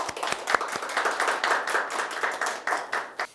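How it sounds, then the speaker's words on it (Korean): Audience members clap at an appointment ceremony for a Eurasia youth academy alumni supporters group. The applause is a continuous patter of many hands, with a few sharper claps standing out early on, then it tapers off near the end. "박수 부탁드리겠습니다"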